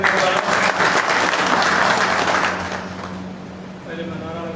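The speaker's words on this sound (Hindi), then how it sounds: "जोरदार तालियों के साथ" Loud crowd applause at a BJP party meeting in Bhadra, India, fills the first couple of seconds, then fades to lighter clapping with a voice beginning to speak near the end.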